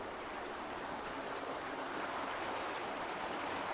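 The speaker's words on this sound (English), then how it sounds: "How fast that water is flowing down here." Fast-flowing water rushing down a narrow stream channel beside old town streets in Lijiang, China, a dense steady roar of churning water, close and constant, with no voices.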